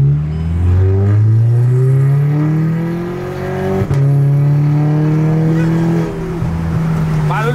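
Lowered car's engine revs up loudly and holds a high, steady drone before easing off, close by with no talk over it.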